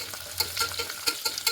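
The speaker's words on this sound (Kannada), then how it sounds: "ಆಮೇಲೆ ಆನಿಯನ್ ಹಾಕಿ ಫ್ರೈ ಮಾಡಬೇಕು." Onions frying in a pan during tomato bath preparation, with a soft crackling sizzle and brief stirring scrapes in a short, close burst.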